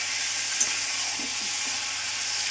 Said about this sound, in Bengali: দুটো একসাথে ভালো করে আমি কষিয়ে নিচ্ছি